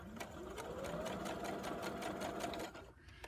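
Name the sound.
sewing machine stitching two layers of fabric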